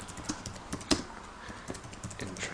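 Typing on a flat, low-profile Mac computer keyboard: a steady run of light, close key clicks with one slightly louder tap, no talking.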